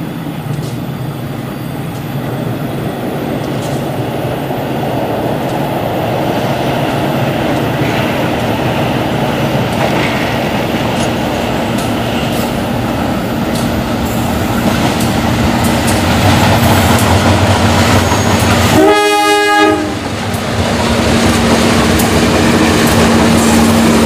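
The Gajah Wong passenger train, hauled by a fourth-generation vintage locomotive from the Cirebon depot, rolls slowly past with a continuous rumble and rhythmic wheel clatter, a brief horn-like tone near the end.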